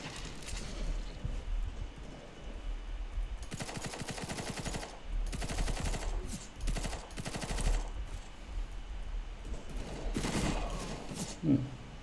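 Rapid automatic gunfire bursts in Counter-Strike GO, several loud rattling volleys separated by short pauses, with footsteps and other game effects between them.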